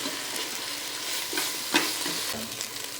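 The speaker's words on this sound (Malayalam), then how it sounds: "മസാലയുടെ ഒക്കെ ഒന്ന് പച്ചമണം മാറി വരുന്ന വരെ ഒന്ന് വഴറ്റിയെടുക്കാം" Masala for chicken rice frying in a pan, with a soft, even sizzle and a few light stirring scrapes close by.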